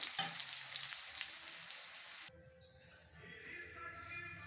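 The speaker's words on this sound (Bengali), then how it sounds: "এখন আলু কটা একটু ভেজে নেব।" Potatoes sizzle and fry in hot mustard oil for a couple of seconds, a steady close crackle that cuts off abruptly into quieter kitchen sounds.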